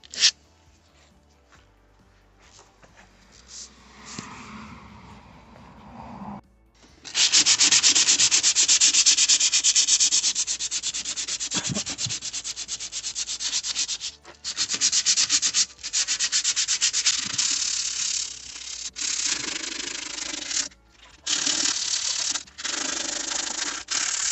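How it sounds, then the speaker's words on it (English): Hand sanding of a plastic car bumper being repaired over a large hole: steady, close scratchy strokes in long continuous runs with brief pauses, after a quieter opening, with no talking. "So I'm gonna keep sanding it by hand."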